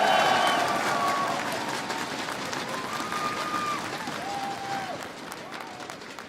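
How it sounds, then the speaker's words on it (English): Audience at a Bandai card game festival in Los Angeles applauding a guest on stage, the clapping loud at first and then gradually thinning and fading, with a few voices faintly heard. "A round of applause for Miyazaki-san!"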